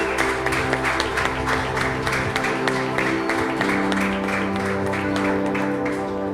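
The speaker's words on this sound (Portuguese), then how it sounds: "Dá uma salva de palmas para Jesus." A church congregation claps loudly and steadily for several seconds in a dense, continuous burst of applause. A sustained musical tone plays underneath, and a voice briefly speaks over the clapping.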